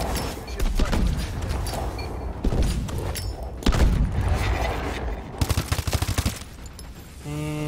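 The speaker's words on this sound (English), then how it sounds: "I'm going to throw all the grenades." Grenades explode one after another in the Call of Duty: Advanced Warfare basic training campaign. Heavy booms land amid dense game noise, followed by a rapid burst of blasts.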